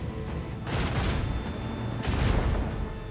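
Macro cannons firing in the Warhammer 40K: Rogue Trader video game, two heavy booming salvos of rumbling blasts about a second and a half apart, loud with no talking.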